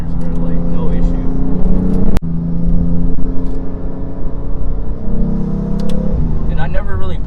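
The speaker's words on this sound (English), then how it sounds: "I hope you hear those intake noises, guys." Loud, continuous engine and intake roar from a BMW F80 M3 Competition with DCT, driven hard through corners with traction control off, swelling and easing with throttle under steady road noise, with voices talking over it.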